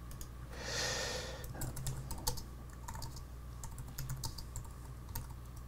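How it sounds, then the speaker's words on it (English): Fingers type on a computer keyboard in short irregular runs of soft, close clicks over a faint hum, after a brief whooshing rustle at the start, with no one speaking. "let me just type in here"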